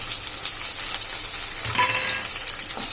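Green and dried chillies frying in a pan for an onion egg fry, a continuous bright sizzle with a faint metallic clink of the spoon partway through, close and steady.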